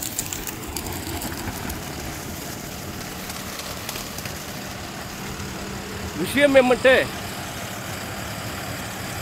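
An HPCR 5405 63 hp tractor with a creeper gearbox, used on a banana plantation, idles with a steady low engine drone under a man's continuous speech. A brief high chirping sound cuts in near the end.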